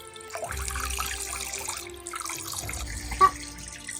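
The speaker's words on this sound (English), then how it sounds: "you pop him in and go, you turn our tap on." A household tap runs at a child's play sink as a toy shark gets a wash, a soft steady stream of water with a brief splash near the end, faint and close, with no voices.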